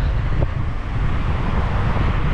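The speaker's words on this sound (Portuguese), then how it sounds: "Tá um vento, um ventão." Strong wind buffeting the microphone beside a roadside beach called Prainha, a steady loud low rumble filling the whole stretch with no letup.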